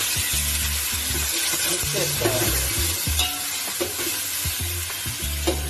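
Ginger and onions fry in oil for chicken pulao, a loud close sizzle under repeated scraping stirs of a spoon against the pan, steady and unbroken throughout.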